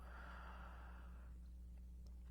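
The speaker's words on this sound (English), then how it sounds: "And breathe this out." A slow, soft exhalation of breath during a guided meditation, a breathy whoosh lasting about a second before fading into quiet room hum.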